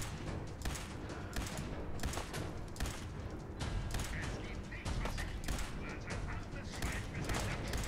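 Rapid bursts of Fallout 4 gunfire crackle in dense volleys, loud and continuous, with brief pauses between strings of shots.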